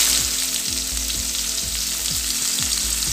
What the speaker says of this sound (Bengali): ফোড়নটা একটু ভেজে নিতে হবে।